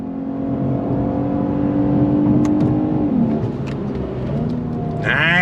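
A 2023 Lexus RC 350 F Sport AWD accelerates hard in second gear from around 5,000 RPM, its engine note loud, rising and close, with a brief shift near the end.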